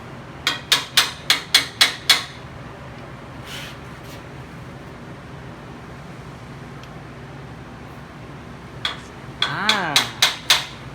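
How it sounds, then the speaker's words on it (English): Hammer blows on a 4x4 build: a quick run of about six sharp, loud strikes, a quiet stretch with a few faint knocks, then another burst of five or so strikes at the end. "Hammer."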